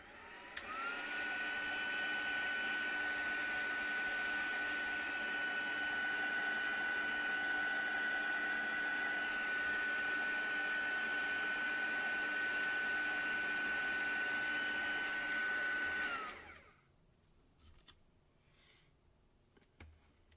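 A heat tool for embossing a textured card blows with a steady, loud, whining fan drone for about sixteen seconds, then switches off, leaving quiet room tone.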